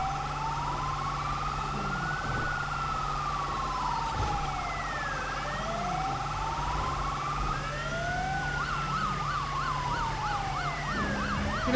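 Fire engine sirens from an NSW Rural Fire Service patrol on the way to a storage fire wail and yelp continuously through traffic, their pitch sweeping up and down and closing into a rapid warble near the end, over steady road rumble.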